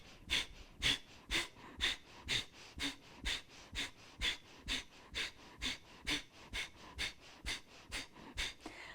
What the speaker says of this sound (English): We're forcefully exhaling through the navel, building and generating an internal fire and heat as we forcefully exhale through the nose